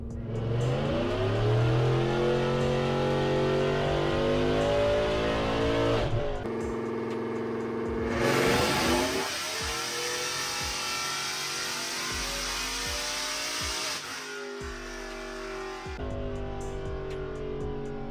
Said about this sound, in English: Let's do a rip.